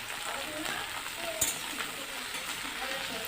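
Chopped onion frying in a pan while being stirred, an even low sizzle with soft scraping and one brief utensil tap midway, close and without talk.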